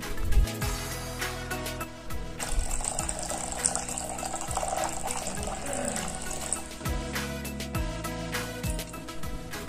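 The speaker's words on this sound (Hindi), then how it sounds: "इसके बाद मैंने इसमें डाला एक गिलास पानी।" Water poured from a glass into a vessel holding baking soda and detergent powder, used for cleaning old silver anklets; a steady splashing stream runs for a few seconds amid clattering handling noises.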